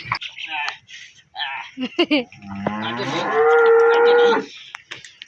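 A loud, drawn-out buffalo low swells and holds for over a second, preceded by short voices talking nearby, on a farm during days of continuous rain.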